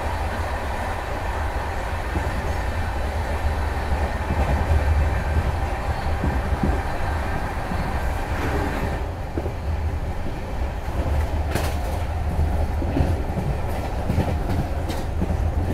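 The Patalkot Express overtakes alongside, a steady loud rumble of rolling rail cars with faint clickety-clack and occasional sharp wheel clicks throughout, close by and unbroken.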